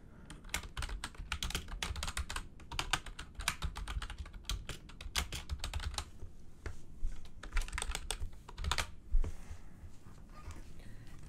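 Rapid typing on a computer keyboard while subtitle text is edited in a subtitle editor, a steady run of close, crisp key clicks with brief pauses and no talking.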